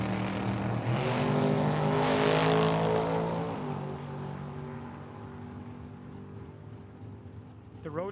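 Drag racing at Tucson Dragway, a Roadster against a Camaro: loud engine roar at full throttle with pitch climbing through gear changes, then receding down the strip and fading, with a brief burst near the end.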